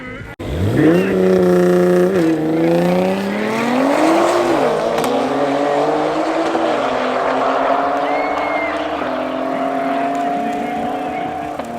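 A BMW X3M and a Nissan GTR launching in a drag race at Midvaal Raceway, engines roaring loud and close and climbing through several gear shifts, then a long sustained high-revving run that slowly fades.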